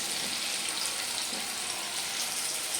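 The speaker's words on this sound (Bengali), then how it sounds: "তো এই যে পেঁয়াজ একটু হালকা ভাজা হবে" Onions frying lightly in a pan give a steady, even hiss of sizzling oil, moderately quiet and unbroken for a few seconds, then cutting off abruptly.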